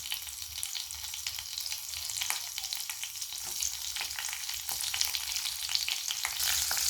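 Mustard seeds, cumin and green chillies sizzling in hot oil in a pan for an onion and raw mango curry, a steady close hiss with fine crackling spits that continues evenly without talk.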